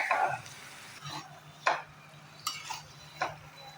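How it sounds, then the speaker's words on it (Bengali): Chicken being stirred into masala in a pan: a few distinct scraping clinks of a spoon against the pan at irregular intervals, fairly close and soft, over a faint low background hum. "চিকেনটা ভালোভাবে মিক্স করে দিলাম"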